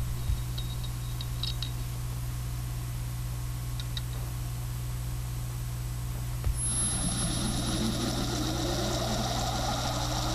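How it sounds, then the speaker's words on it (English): A rotating machine, freshly rebalanced after a vibration test, starts up with a click, then a rising whir and hiss that climbs steadily over a constant low hum. "Watch and listen as the machine comes up to speed."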